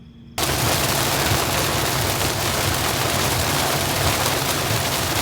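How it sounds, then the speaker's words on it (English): Heavy rain pours down during a violent storm, a dense, steady roar that starts abruptly after a brief quieter moment and then holds loud and constant with no voices. "Well, it's raining."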